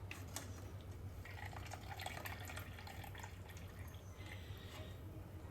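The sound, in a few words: straining soaked rice ada flakes from water for payasam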